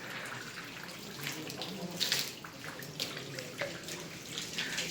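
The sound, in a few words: water being sprayed on mushrooms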